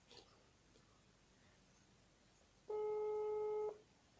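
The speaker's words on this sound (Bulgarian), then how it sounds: "Чакай, звъни." A single steady telephone ringing tone sounds for about a second, loud and clean after a quiet stretch of faint room noise, from a phone call being placed.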